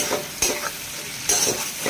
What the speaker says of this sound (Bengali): এখন মশলা পাকানো হচ্ছে